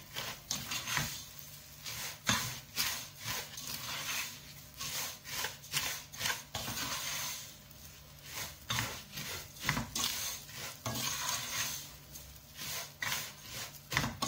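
Thin vermicelli (seviyan) being roasted in butter in a pan over a low flame, for sheer khurma, giving a steady rustling, scraping rasp with repeated stirring strokes throughout, with no talk.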